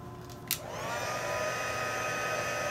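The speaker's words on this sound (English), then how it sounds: "I'm going to go ahead and heat this with my heat gun" A heat gun switches on with a click and settles into a steady, loud airy whoosh and whine while melting clear embossing powder on cardstock.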